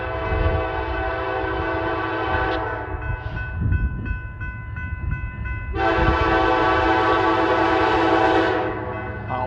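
A BNSF freight train rumbles past near Plattsmouth, Nebraska, sounding loud sustained multi-tone horn blasts, one long and then another after a short break, over the steady roar of the passing cars.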